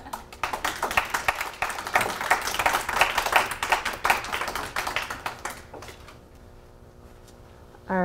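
A story slam audience claps for its storytellers in a lively burst of many hands that rings out for about five seconds, then fades to a quieter room.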